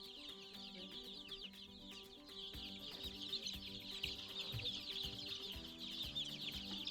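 Plymouth Rock and Rhode Island Red chicks peep and cheep continuously in a dense chorus, close and faint, with soft thumps and rustling underneath.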